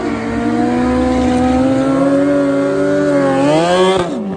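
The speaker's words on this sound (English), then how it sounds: "Two beautiful drag bikes." Two drag racing motorcycles scream down a drag strip, a loud sustained engine roar rising in pitch as they accelerate, then a sharp shift and fade near the end.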